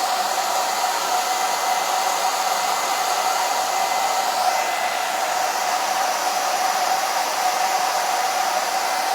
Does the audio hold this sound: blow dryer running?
yes